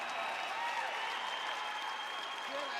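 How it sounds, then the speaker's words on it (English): A crowd at an AFC 36 mixed martial arts event applauds fighter Joe Fonoti, a steady, fairly faint wash of clapping and cheering in a large venue, with no clear pauses. "Hey, how about a huge round of applause for Joe Fonoti"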